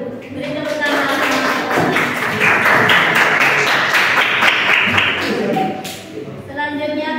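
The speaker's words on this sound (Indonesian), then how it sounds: "Beri tepuk tangan." A classroom audience claps in a steady, dense burst lasting several seconds, fairly close and loud, with voices audible underneath and a brief lull near the end.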